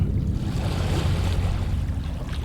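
Wavelets washing against the base of a stone monolith in a chasm in the Lovecraft game Dagon, a steady, low rushing surge of water with a windy wash and no talk.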